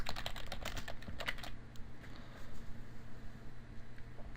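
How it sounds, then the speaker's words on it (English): Typing on a computer keyboard, a quick run of clustered keystrokes in the first second and a half, then sparse faint taps over a steady low hum. "for this title we're just going to type in"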